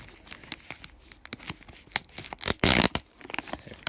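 Tape rips off a grey plastic bag close up, a run of quick crinkling and crackling plastic that builds to one loud tearing burst, then settles into lighter rustling.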